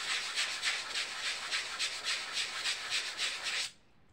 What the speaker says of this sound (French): après, je prends la machine et puis je le ponce.